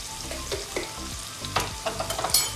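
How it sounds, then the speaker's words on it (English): Onions and garlic sauteing in a pan for a quick mushroom pasta, giving a steady soft sizzle with scattered clicks and scrapes of stirring, fairly close and quiet, with no voices. "I'll be sauteing the onions and the garlic for a bit until they are slightly brown"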